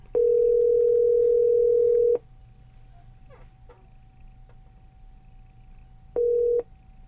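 Outgoing iPhone call ringing on speakerphone: one long steady ringback tone of about two seconds, a quiet gap, then the start of a second ring, close and loud over a faint room hum.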